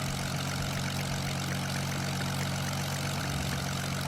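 Game vehicle engine in Roblox running at a steady idle, a continuous low droning hum with a faint whirring, propeller-like quality and no speech.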